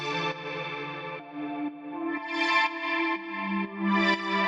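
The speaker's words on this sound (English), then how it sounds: "the sound with this one is made with two layers. So we have the string ensemble," Ableton's standard string ensemble layered with a warm analog synth pad makes a sustained, swelling progressive house chord bed, with slowly shifting held notes that brighten and fade as the harmonies change.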